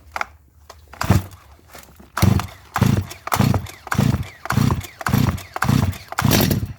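A chainsaw with a freshly cleaned engine sounds in a run of rhythmic pulls or bursts, about nine loud, evenly spaced surges close to the mic, with no talk over them.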